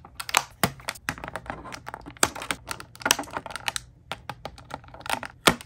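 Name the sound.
snipping open Funko action figure packaging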